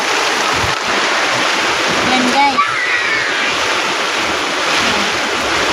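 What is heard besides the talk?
strong wind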